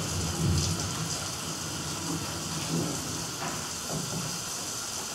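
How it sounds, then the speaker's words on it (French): Steady rain with hail beating down outdoors, a dense continuous hiss of drops with scattered harder pattering, loud and even throughout with no voices. "Il pleut et il grêle à faire plaisir."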